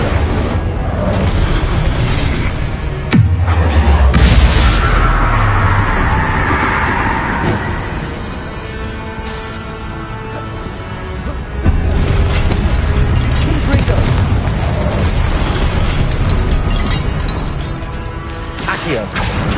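Confringo spell fired in the video game Hogwarts Legacy, a booming explosion with crackling debris followed by further rumbling blasts and game effects, while a voice talks over much of it.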